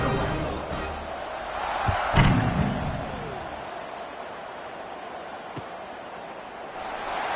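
Football stadium crowd murmuring and calling out before kickoff, a broad distant roar that swells briefly with a sharp slam near the middle, then settles into a steadier hum.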